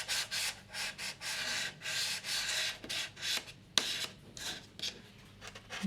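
Packing tape smoothed by hand along the inside seams of a box, repeated close rubbing strokes with brief pauses and one sharp tap, no talk.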